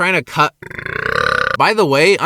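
A young man burps loudly in a long, drawn-out belch after eating lots of junk food, flanked by his own speech before and after.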